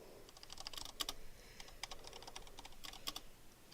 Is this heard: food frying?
no